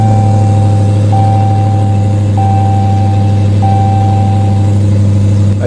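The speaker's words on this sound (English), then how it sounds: "You can hear like the throatiness of it. Like you can hear the engine, right?" A 2023 Dodge Demon 170 V8 starts and settles into a loud, steady, throaty idle heard up close, a constant deep rumble with a thin high tone beeping on and off above it.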